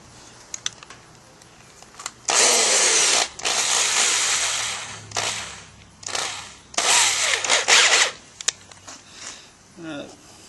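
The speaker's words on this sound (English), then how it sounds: "Let me put this thing in my drill real quick." A handheld power drill fitted with a homemade fluid extractor whirs in several bursts of a few seconds each, starting and stopping, loud and close, with brief quiet gaps and clicks between runs.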